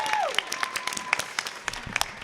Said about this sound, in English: I want to make sure you give a big round of applause for Desiree Gales